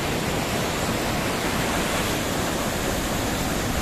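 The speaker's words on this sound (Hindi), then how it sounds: "ये देखिए, देखिए कितने फ्लो से पानी आ रहा है" Water gushing out under strong pressure, a steady loud broadband roar like a waterfall that holds unchanged throughout, with no voices.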